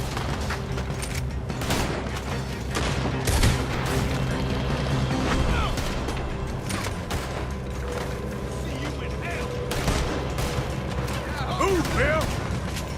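A shootout in Red Dead Redemption 2 fills the scene with rapid, overlapping gunshots and fusillades, loud and nearly continuous, while characters shout over the gunfire.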